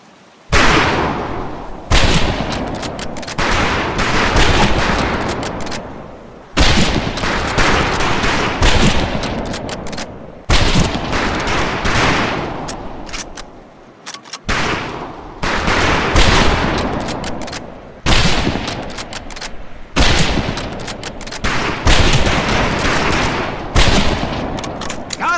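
Repeated bursts of rifle fire at a training firing range in Medal of Honor: Pacific Assault, loud overlapping volleys of shots coming in clustered groups with brief gaps between them.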